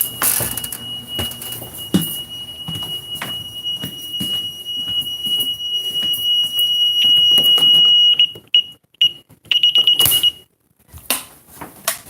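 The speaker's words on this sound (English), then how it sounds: "I have to get my alarm off so I can come in." A home security alarm sounds outside a house, a loud, steady high-pitched electronic tone that keeps going under rustling and movement, then cuts out in bursts and stops as the system is switched off.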